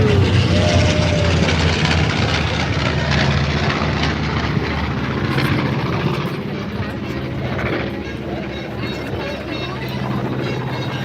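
Propeller aircraft fly at the Wings over Camarillo airshow in California, a loud sustained engine drone that fades slightly toward the end, with a voice talking over it.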